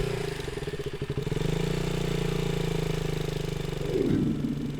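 A KTM Duke motorcycle engine idles with a steady throbbing chug, close by, briefly rising in a light rev near the end.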